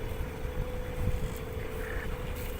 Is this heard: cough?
no